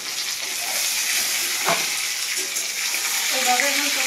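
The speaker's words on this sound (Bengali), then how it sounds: "এইভাবে আমি টমেটোটাও ভাজবো।" Chopped tomato frying with browned onion in a pan, a steady bright sizzle running the whole time with a brief clatter midway and no talk.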